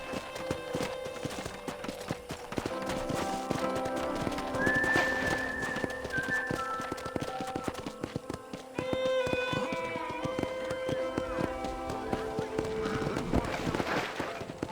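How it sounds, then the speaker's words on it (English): Horse hooves gallop in the Red Dead Redemption video game during a ride around a ranch. The steady clip-clop of the hooves carries over the game's music, and a horse whinnies partway through. "Okay, let's see if you can still ride a horse."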